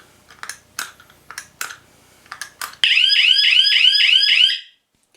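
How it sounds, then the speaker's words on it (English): An escape room combination lock prop with LED buttons: several short key clicks and beeps, then a loud piercing warbling siren sounds for about two seconds after a wrong code before cutting off. "if you find the siren to be too loud, you can muffle it with a piece of fabric."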